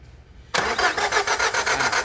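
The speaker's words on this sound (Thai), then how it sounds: "เดี๋ยวให้ช่างโจลองสตาร์ทอ่าช่างโจสตาร์ทครับ" A car engine with a broken timing belt cranks over with a sudden loud start, then a rapid, steady whirring churn continues close up with no voices.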